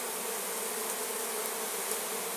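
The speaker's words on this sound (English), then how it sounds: "that's probably a younger bee, so they don't sting" Honeybees drone steadily and continuously at a beehive during a relocation in Provence, a dense, even buzz with no voices.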